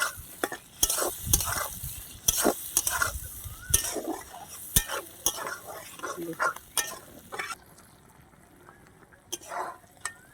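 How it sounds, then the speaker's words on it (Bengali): Eggplant pieces fry in oily spice masala in a pan of hilsa fish curry, giving a steady sizzle broken by frequent sharp spatula scrapes and stirring knocks, close and fairly loud throughout. "দেখুন বেগুনটা কি সুন্দর মশলার সঙ্গে ভাজা হয়ে গেছে"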